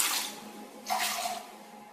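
Warm water poured into a bowl for boiled bagel dough, two short splashing pours close by, the second beginning partway through, with no voices.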